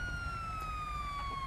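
An ambulance siren wails steadily in a single sustained, slowly falling tone, moderately distant and continuous throughout, with low background rumble and no talking.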